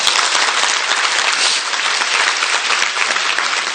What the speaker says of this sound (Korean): 박수 한번 치워주세요.